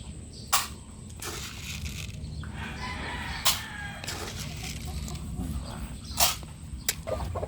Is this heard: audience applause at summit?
no